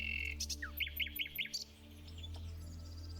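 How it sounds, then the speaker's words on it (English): Nightingale singing in summer countryside in Murcia, Spain: a bright burst of repeated rising whistled notes in a quick series, fairly near, over a steady low hum, then fading to quieter background. "I'm hoping the camera's picking this nightingale singing. It's singing its head off."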